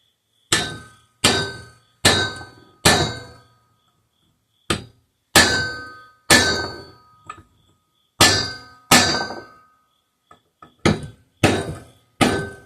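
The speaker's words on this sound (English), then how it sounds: "Again, going for the big hammer." A big hammer strikes metal on a seized air compressor pump about a dozen times in uneven succession, each blow a sharp ringing clang that decays before the next.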